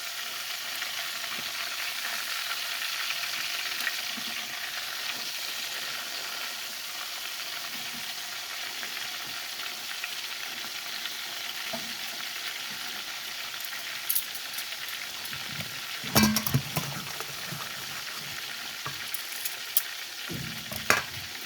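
Red snapper fried in a pan sizzles steadily and loudly for the whole stretch, with a few louder crackles and pops near the end and no talking.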